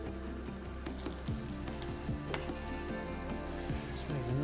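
Peppers fry in a hot pan with a continuous crackling sizzle, moderately loud and close, broken by scattered pops and a faint scrape of a utensil. No voices.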